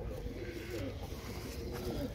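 Soft, low cooing comes from a competition pigeon held close at hand, a couple of throaty coos rising over a steady background murmur.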